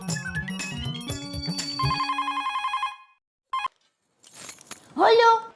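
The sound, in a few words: phone ringing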